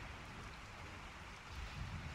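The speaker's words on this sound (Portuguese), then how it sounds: "Essa chuva aqui nesse no Resident Evil, cara." Steady rain in Resident Evil 4 forms a quiet, even wash of broadband patter throughout, with low rumbling swells near the end and no voices.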